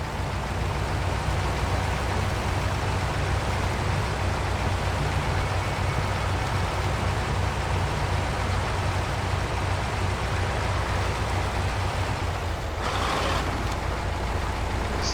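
A truck in SnowRunner grinds along with a constant, heavy low engine drone and a rain-like hiss, steady throughout with a brief clunk near the end, and no talk.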